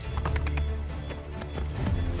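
Horse galloping in Assassin's Creed 3 on Xbox 360, a rapid rhythmic clatter of hooves running continuously at close range over a game soundscape.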